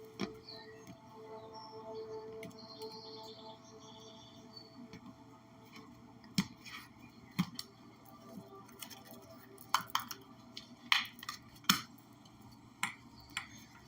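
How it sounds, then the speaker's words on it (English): Soft papery riffling and scattered light clicks of tarot cards being shuffled over a steady low hum, growing busier toward the end. "Make sure everything is shuffled up here."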